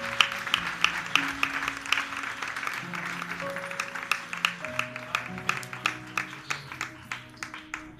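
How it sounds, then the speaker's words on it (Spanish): A church congregation applauds during a sermon in a hall, scattered clapping under sustained organ or keyboard chords, with sharp distinct claps growing more rhythmic and regular toward the end. "¿Le puedes aplaudir a Dios un segundo,"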